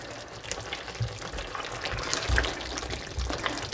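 Lamb chop and potato curry stirred in a pan, a steady close sizzle of frying with soft scraping and wet mixing sounds running throughout.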